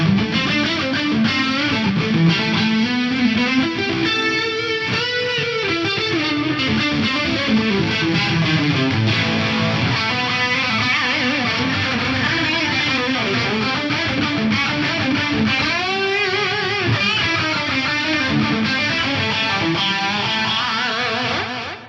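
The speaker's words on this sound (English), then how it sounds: "Reverb, delay, and pitch detune, and then we'll hear what each one of them does one by one." Heavily processed electric guitar through an Axe-Fx III playing continuously, washed in lush concert-hall reverb and echoing delay with a shimmering pitch-detuned chorus quality throughout.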